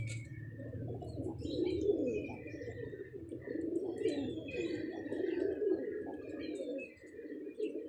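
Pet pigeons cooing in soft, low, repeated murmurs, with light chirps and faint background noise, fairly quiet and close.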